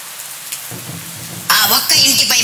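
Rain pours onto a house as a horror-story sound effect, starting quiet with a low rumble and then swelling into a loud, dense hiss of rainfall partway through.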